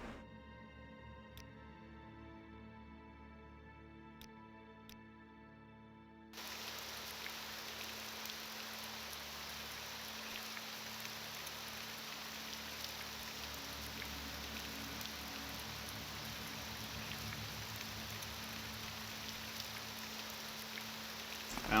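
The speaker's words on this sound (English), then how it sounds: "Well, the rain's not gonna stop" Steady rain pours across an outdoor scene in the game Tamriel Rebuilt, with a broad, continuous hiss that swells in after a quieter opening of sparse tones and then holds at an even level to the end.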